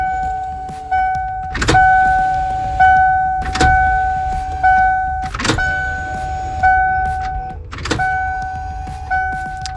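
The electric fuel pump of a 1996 Ford E-350 van primes repeatedly with the door open. Each cycle is a sharp click followed by a steady whir lasting about a second, repeated about five times, close and loud.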